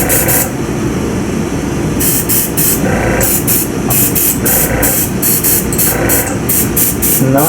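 Paint sprayed in layers onto a Tiamat dragon miniature: a series of short, hissing bursts repeats at a steady rhythm over a constant low background rumble, fairly close and loud.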